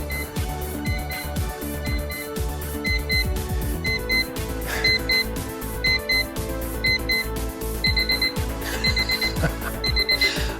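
A vintage alarm clock rings continuously, its beeps growing faster and louder over about ten seconds, loud and close with no talk.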